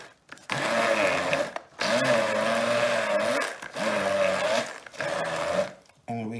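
A blender mixing pesto sauce runs in four bursts of steady whirring, starting and stopping with short pauses, close and loud, with speech faintly underneath.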